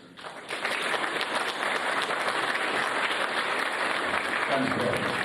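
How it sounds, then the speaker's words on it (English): Sustained applause from the audience at a South African Military Academy awards ceremony, swelling in after a brief quiet start and holding loud and even, with murmured voices mixed in. "round of applause"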